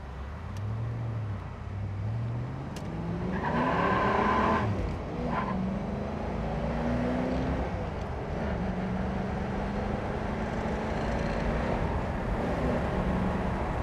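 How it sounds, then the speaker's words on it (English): Engine of a 1986 Ford Mustang GT convertible accelerating on the road, heard from inside the car as a steady loud drone with engine pitch rising and shifting through the gears, plus faint passing traffic. "Car has great acceleration, great handling."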